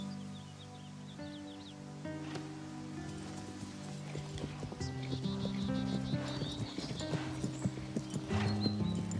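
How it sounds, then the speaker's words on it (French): Horse hooves clip-clop in a steady walking rhythm, growing a little louder and closer, with background music playing throughout. "J'aimerais avoir un cheval comme Diablo"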